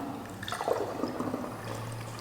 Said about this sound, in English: Pour it in the funnel.